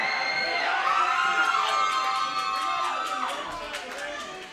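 A crowd at a wrestling tournament cheers and shouts loudly throughout, a dense roar of voices and whoops that swells and then eases slightly toward the end, with an announcer's voice mixed in.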